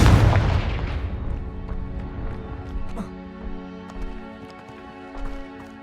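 A Confringo blasting spell in Hogwarts Legacy goes off with a loud, close boom at the start, then rumbles away beneath steady game music, with a few lighter thuds following.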